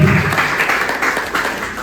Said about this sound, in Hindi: प्लीज जोरदार तालियों के साथ